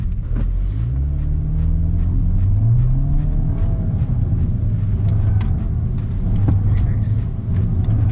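A Skoda Octavia VRS weaves through a slalom with a loud, close engine rumble and rising and falling revs as it accelerates between turns, while a person talks over it.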